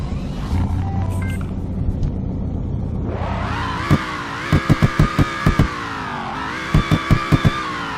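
A car engine in the Roblox game Greenville starts and revs in two rising, falling sweeps, with sharp clicking ticks during the revving and no talk over it.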